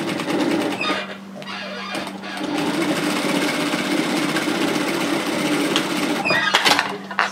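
A sewing machine runs steadily, stitching a seam through a piece of a wrap hoodie, with a continuous close mechanical hum broken by brief pauses near the start and end.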